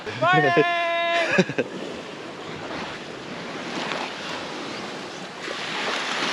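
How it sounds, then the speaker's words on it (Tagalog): Calm, gentle sea waves at a quiet beach resort in Siruma, Camarines Sur, a soft steady wash and low surf rumble heard close by, preceded at the start by a brief bright whistling tone. "Hindi naman gano'ng kalakasan yung alon."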